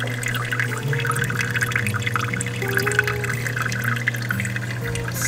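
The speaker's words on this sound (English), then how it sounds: "And you can just hear the sound of the water trickling." Water trickles continuously in a planted aquarium and terrarium display at a fish store, a soft, steady splashing and dripping with a low equipment hum beneath.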